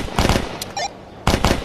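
Rapid automatic gunfire in the VR shooter Tactical Assault VR comes in two short loud bursts with a brief pause between, plus a small electronic chirp.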